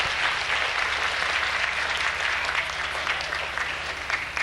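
An audience applauds a children's performance at Silver Lane Elementary School with sustained, dense clapping that stays steady and fairly close throughout.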